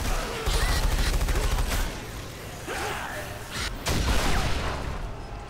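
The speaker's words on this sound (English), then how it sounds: "That's a grenade launcher." Grenade launcher firing in the shooter SiN Episodes: Emergence, loud booming blasts in quick succession with heavy low-end thumps and crackling debris, a short pause, then another burst.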